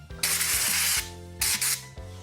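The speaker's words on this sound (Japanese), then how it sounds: "フルードが綺麗になくなってますので、あとはエアブローします。ちょっと音がうるさいです。" Compressed air blown in loud hissing bursts over a motorcycle brake master cylinder diaphragm and spacer on a Honda Rebel 250, with steady tonal hum underneath between the blasts.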